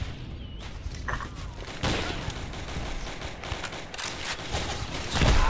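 World War II rifle and machine-gun fire in a Roblox battle game, a steady crackle of many shots at mid distance with occasional louder bursts and a heavier thump near the end.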